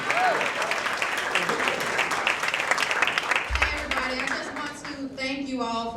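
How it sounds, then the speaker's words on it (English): Audience at an evening charity gala applauds the production staff, a dense, steady wash of clapping throughout with a voice speaking over it and the crowd settling toward the end. "Everybody should be clapping for this."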